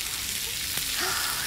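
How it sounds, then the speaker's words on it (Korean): Grilled eel and salt-crusted pork belly sizzle on a grill, a faint, continuous crackling hiss with scattered pops, steady throughout and heard alone. "지글지글 이 소리 들리시죠?"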